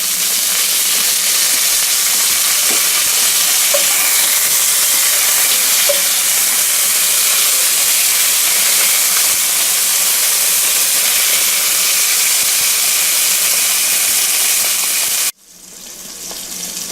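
Sausages browning in a pan, giving a steady, loud, close sizzle and hiss that runs on without a break and then cuts off abruptly near the end.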